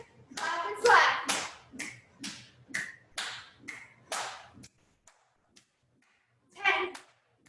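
A series of sharp hand claps, about nine in a regular rhythm, during a jumping jacks set in a full-body home workout, close and crisp with a pause before one last clap.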